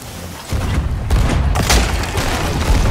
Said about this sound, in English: Oh, they're firing back!